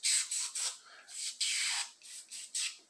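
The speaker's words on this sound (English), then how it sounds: "I just spray them down, I flip them over, give them a good coating" Foaming cleaner is sprayed onto bicycle parts in bursts of close hissing spray, about eight short blasts in uneven rhythm, some longer than others, with no talking.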